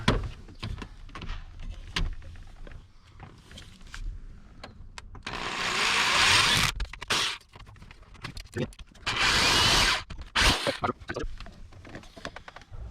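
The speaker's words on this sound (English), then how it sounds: "I'm gonna drill in right here" A power drill whirs in two sustained bursts, the second ending abruptly, with scattered clicks, knocks and handling noise around them, while drilling into a 7.3 dually truck.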